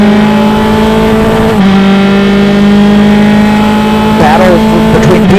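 A race car at an SCCA sprint race at Mid-Ohio holds a loud, steady engine tone close by, then briefly shifts pitch as it changes gear, while a commentator talks over it.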